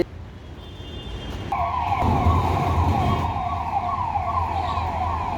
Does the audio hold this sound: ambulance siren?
yes